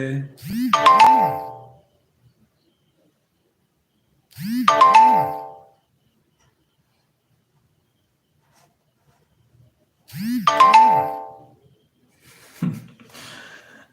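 A two-note electronic notification chime sounds three times at irregular intervals, clear and close, with silence between and a brief faint noise near the end.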